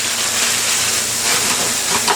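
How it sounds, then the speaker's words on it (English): Steady broadband hiss and crackle of chow mein sizzling in a hot 14-inch T-fal wok, continuous and close, with no talking. "I'm getting the nice sizzle, that little sizzle sound."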